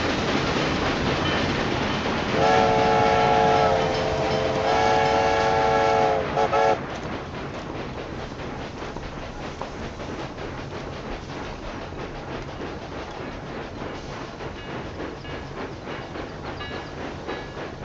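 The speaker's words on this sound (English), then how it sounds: "The train is really catching up." A video-game train in Railway Empire rumbles steadily throughout, with a loud horn blast in two sustained bursts early on before the rolling carriage noise carries on alone.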